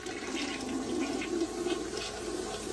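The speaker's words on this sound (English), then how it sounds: "let's flush it to make sure." A toilet flushes up close after being unclogged, a steady loud rush of swirling, draining water that runs unbroken for the whole stretch with no talking.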